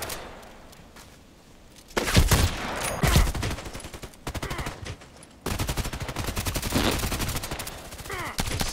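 Rifle gunfire in the shooter video game Contract Wars: rapid bursts of sharp shots in several volleys, loud and close, separated by short quieter gaps.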